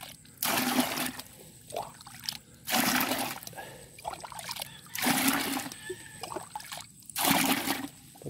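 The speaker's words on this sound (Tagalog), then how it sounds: "Salukin ng tabo ang tubig." A dipper scoops water and pours it out in four separate splashing bursts spaced about two seconds apart, with quieter trickling in between, outdoors beside a rice field where eggplant is being planted.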